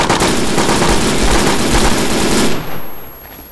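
Sustained machine gun fire in the video game STALKER, loud and close, with shots hammering rapidly for a few seconds before cutting off into a fading echo.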